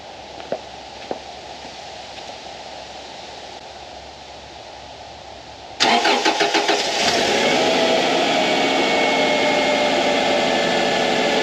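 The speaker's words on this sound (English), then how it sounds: "I'll turn the lights on, I'll start the car." A Subaru car starting: after a quiet hum with a couple of clicks, the engine cranks briefly, catches and settles into a steady idle close by.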